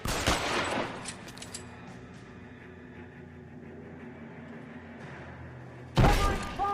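Burst of gunfire in an old-time gangster shootout video game, a loud volley at the start, then a quieter stretch of ambient game sound before another sharp crack of shots near the end.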